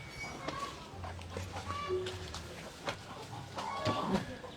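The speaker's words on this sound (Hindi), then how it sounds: "इसमें मुर्गे रखे हैं भाई देखो।" Native Indonesian chickens cluck and call in short bursts amid a busy, noisy background on a farm, with brief talk now and then.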